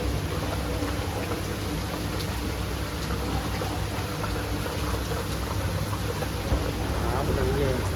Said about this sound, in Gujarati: મસ્ત મજાનો વરસાદ ચાલુ થઈ ગયો